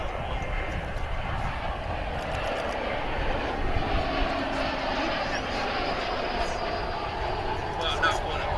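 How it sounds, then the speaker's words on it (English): An American Airlines jet, a flight arriving from Phoenix, lands on a runway at DFW Airport, its engine roar steady and broad at moderate distance throughout with no talk. "We've got American Flight 569 coming in from Phoenix now on Runway DFW."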